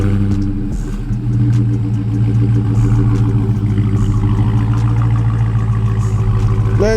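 A 2020 SRT Daytona Hellcat with its factory exhaust runs close by, a loud, steady low rumble with light throttle swells throughout and no pauses.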